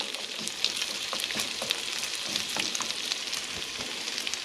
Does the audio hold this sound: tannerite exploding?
no